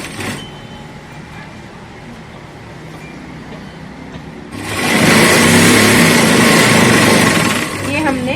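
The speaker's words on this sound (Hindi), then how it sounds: "उस तरह से ही हम इसको एक बार सीधा सील लेंगे" An electric sewing machine runs a straight seam on kurti fabric; someone talks at first, then the motor's steady whirring hum starts loud and continuous for several seconds before easing off.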